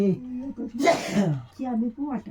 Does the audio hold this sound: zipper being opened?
no